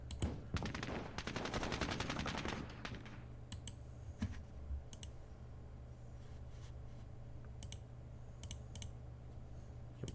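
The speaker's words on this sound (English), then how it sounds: "we can certainly open fire with our weapons" Weapons fire in a Battle of Hue City (Vietnam 1968) squad battles war game: a dense rattling burst for a few seconds, then isolated sharp shots over a low steady hum.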